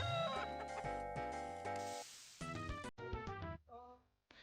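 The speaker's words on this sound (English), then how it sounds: "Chicken." Chicken clucking in the video game Bo's Adventure, a series of short bright clucks after a game-over moment, rising over game music and fading to quiet by the end.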